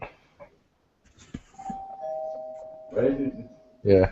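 A home doorbell rings once with a sustained chime tone, followed by a louder burst of sound at the end; people talk briefly around it.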